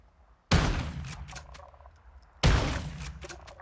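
Two loud gunshots from a rifle in Warzone 2 (Modern Warfare II, 2022), spaced about two seconds apart, each a sharp blast with a ringing tail.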